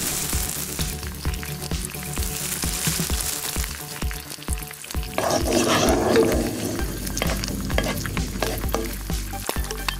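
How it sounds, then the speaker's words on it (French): Bacon sizzling and frying in a pan on the stove, a dense, steady crackle with popping bursts, loud and close throughout, growing more intense midway. "Mets le bacon sur le feu. Fais-le cuire jusqu'à ce qu'il soit grillé."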